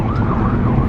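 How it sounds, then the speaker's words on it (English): An ambulance siren wavers faintly through a brief moment of steady, heavy road and engine rumble as the vehicle goes by. "ambulance is coming."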